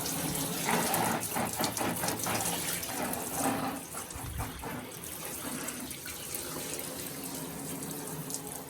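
Tap water runs into a bathtub in a steady, continuous splashing hiss, fairly close and unchanging throughout.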